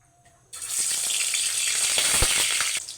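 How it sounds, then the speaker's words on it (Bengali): Chital fish muitha balls dropped into hot oil, setting off a sudden, loud, steady sizzle with crackling pops that holds for a few seconds, close by and with no talk. "এবার আমি তেলে ছেড়ে দেব।"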